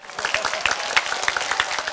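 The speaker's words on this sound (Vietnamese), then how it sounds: "Một tràng vỗ tay nữa thật lớn thưa quý vị." A TV show studio audience claps in a brief burst of fairly lively, dense applause with scattered sharper hand claps.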